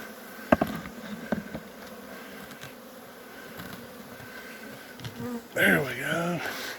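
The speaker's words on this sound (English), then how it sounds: "That's a late season swarm captured." A late season honeybee swarm hums as a faint steady buzz close by, with a few knocks and a short burst of noise near the end.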